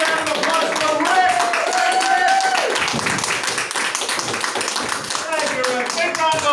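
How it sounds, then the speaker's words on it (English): Comedy club audience applauds comedian Rick at a standup night: a burst of clapping and taps that carries on steadily while a voice talks over it. "Big round of applause for Rick."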